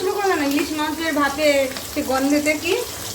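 Hilsa fish frying in hot oil at home, popping and sizzling steadily beneath continuous, fairly close talking voices.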